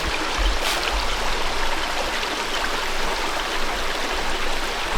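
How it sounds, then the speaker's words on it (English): A creek flows in a charred forest, a steady, close rushing and burbling of water that fills the whole stretch without pause. "I haven't heard anything except for the creek since we've been here."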